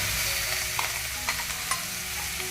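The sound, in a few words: garlic being sautéed in pan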